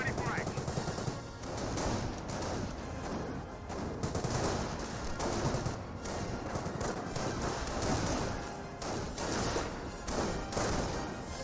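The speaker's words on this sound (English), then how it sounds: "Jeep firing some shots there onto the Panzer Grenadiers." Machine-gun fire from a jeep against Panzer Grenadiers in the World War II strategy game Company of Heroes, with rapid rattling bursts and scattered shots in a dense battle din, fairly quiet, under faint talk.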